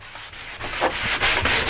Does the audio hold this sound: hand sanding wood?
yes